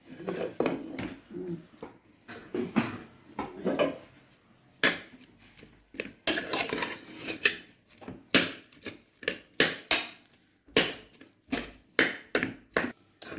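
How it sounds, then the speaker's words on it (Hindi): A metal pressure cooker is opened, producing a series of close metallic clanks, taps and rattles, irregular at first and then coming in quick, sharp knocks. "अब हम कुकर को खोलने लगे हैं।"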